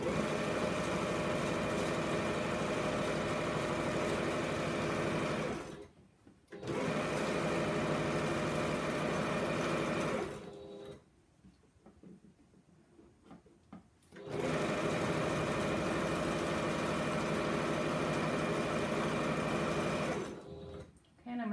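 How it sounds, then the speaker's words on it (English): Sewing machine stitching a wide border onto a quilt runs steadily and loudly in three long bursts, each stopping abruptly, with a near-silent pause before the last run. "I'm going to sew right off the piece, and then stop my machine, lift the needle, and trim my threads."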